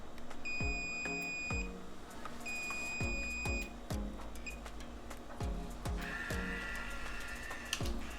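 A DreamCurler hair curler emits two sustained high electronic beeps when ready, each lasting about a second, over rhythmic mechanical clicking and soft background noise.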